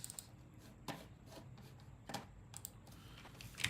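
A computer keyboard clacks faintly in a quiet room, sparse irregular keystrokes with small clustered bursts, low and close to the microphone with no talking.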